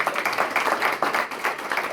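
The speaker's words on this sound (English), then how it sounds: "Let's give her a round of applause." An audience at a membership orientation applauds steadily, a dense patter of many hands clapping at once, fairly close and continuous throughout.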